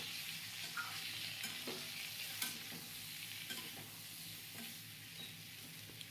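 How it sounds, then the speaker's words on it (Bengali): Cumin and chilli powders stir-fry in a pan for a chhana potol curry, producing a low continuous sizzle broken by soft scraping strokes of a spoon, faint and close. "এক চামচ জিরের গুঁড়ো, এক চামচ লঙ্কার গুঁড়ো আর এক চামচ কাশ্মীরি লঙ্কার গুঁড়ো সব দিয়ে আবার ভালো করে কষবো"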